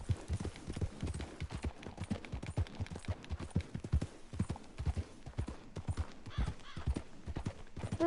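A white horse's hooves clip-clopping in the video game Red Dead Redemption 2, a steady, brisk rhythm of distinct hoofbeats that carries on throughout, near and clear.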